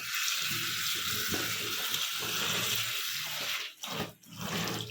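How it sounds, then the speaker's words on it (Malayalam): A burqa is hand-washed and swished in water, making continuous close splashing and sloshing that dips briefly twice near the end before resuming. "രണ്ട് മൂന്ന് പ്രാവശ്യം വെള്ളത്തിൽ കഴുകിയെടുക്കാം"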